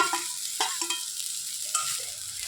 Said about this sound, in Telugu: కొంచెం బ్రౌన్ కలర్ వచ్చే వరకు వేయించుకుందాం ఆనియన్స్ వేగుతున్నాయి కదా